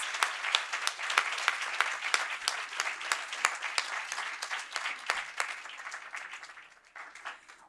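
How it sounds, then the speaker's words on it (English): Audience applause fills a school board meeting, a steady wash of many hands clapping that stays loud for several seconds, then thins and fades toward the end. "Audience, will you please give Salinas Elementary and all its wonderful teachers and staff a round of applause?"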